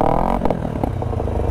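Motorcycle engine, a first starter bike with high mileage, revving up loud and close, a rising whine dropping into a clattering, choppy run.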